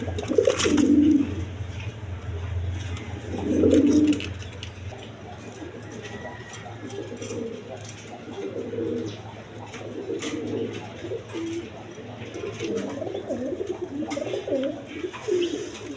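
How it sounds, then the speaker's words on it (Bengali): Pigeons coo repeatedly in low, rounded bursts around a loft at a pigeon farm, among them an orange chiller male, with a steady low hum underneath and someone talking throughout. "দর্শকবৃন্দ এখানে একটা অরেঞ্জ চিলার নর কবুতর আছে, বোট ঠোঁটের"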